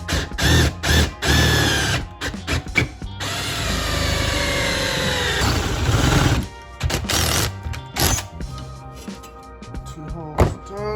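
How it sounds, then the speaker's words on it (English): A power drill with a half-inch bit bores into material in loud, close bursts, starting and stopping, with clunks and knocks between runs. "Got the 1/2 inch drill bit."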